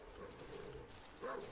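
A dog barks and growls in the horror video game Darkwood, heard as short, close yips over a dense ambient game soundscape without speech.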